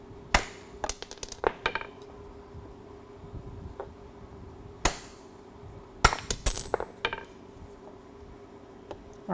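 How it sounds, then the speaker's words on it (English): A hammer strikes a socket to drive a bushing through a strut during a 7-inch MaxTrac suspension lift install on a 2011 2WD Dodge Ram, giving sharp metallic clanks in scattered clusters, some quick doubles and triples, close up over a low hum. "We're going to take a hammer and start working that through."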